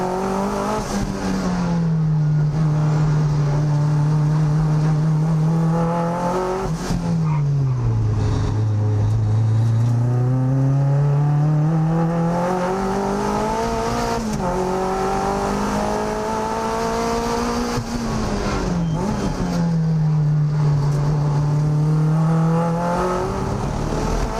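Turbocharged Mazda MX-5 on an out lap around a race track, engine loud from inside the car, rising and falling repeatedly through gear changes and corners, no voices.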